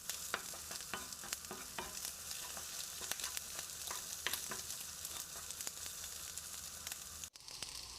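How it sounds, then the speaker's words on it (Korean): Butter egg fried rice with green onion being stir-fried over high heat in a pan: a steady loud sizzle with frequent scraping stirs and clicks throughout, with no talking. "계란이 익을 때까지 센 불에서 빨랑빨랑 볶아냅니다"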